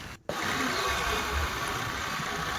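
A new HP petrol water pump engine runs outdoors in the village, giving a steady, loud, continuous droning roar close by after a brief dropout at the very start.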